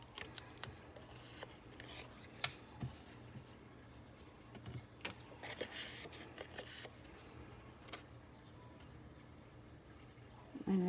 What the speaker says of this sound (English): I'm trying to do this without actually cutting into my nice straight line here.